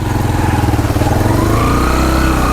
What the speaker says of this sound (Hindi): अभी बाइक वापस आया है, फिर चल ज़ोर लगाते हैं। बाइक असल में स्लिप हो रहा है ना।